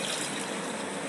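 Water poured into a cooking pot while preparing Odia attakali with jaggery and salt, a steady close rushing splash running unbroken and fairly loud throughout, with no voices.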